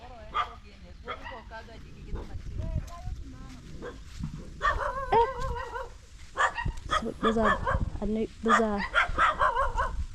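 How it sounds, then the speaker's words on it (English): A neighbour's dogs on a farm bark repeatedly in sharp, irregular bursts, growing more insistent, while a person talks over them nearby. "dogs from a neighbor, and I'm told they do bite people"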